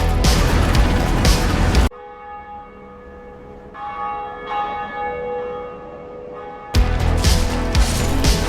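In the Dark Souls video game, the Bell of Awakening rings out in two long resonant church-bell tolls that hum and decay, framed by louder dense game noise before and after.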